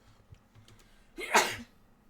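A single loud, close sneeze with a sharp burst of breath, standing alone against a quiet background.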